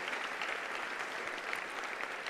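A church congregation applauds during a worship service, producing a dense, even wash of many hands clapping at once, fairly soft and distant, with no voices standing out.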